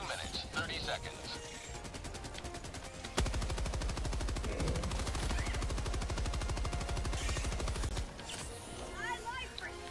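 An MG-43 machine gun in Helldivers 2 fires a sustained, rapid, even burst lasting several seconds, loud and close, rising sharply out of softer battle noise and ending abruptly.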